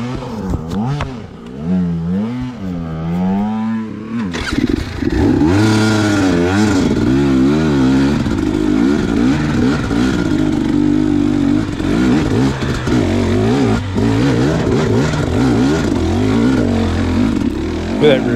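A 250 two-stroke dirt bike engine revs and rises in pitch as it climbs through gears, loud and close throughout, with a rider's voice partly mixed under the engine noise.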